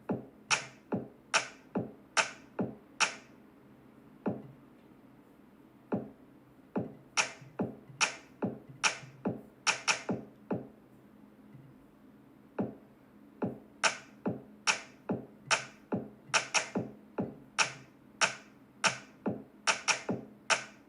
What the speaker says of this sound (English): I just added all these kick drums, and now I'm going to start putting some claps in here